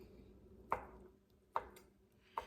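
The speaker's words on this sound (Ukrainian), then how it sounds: "Сир будемо нарізати кубиками" Three sharp knife chops land on a cutting board at a slow, uneven pace, cutting feta cheese into cubes, close and fairly soft over a quiet background hum.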